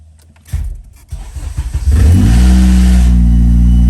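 A 2006-2011 Honda Civic Si with a DC race header cranks, catches and roars to life, then revs loudly and settles into a steady, deep idle, close by.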